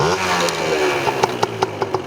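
A motorcycle engine catches and runs with a sputtering idle, followed by a few sharp rhythmic revving bursts, close by.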